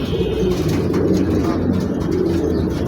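Pigeons coo steadily and close by, with low rounded calls layered over one another while the birds bathe. A continuous busy background murmur runs underneath, and there is no talking.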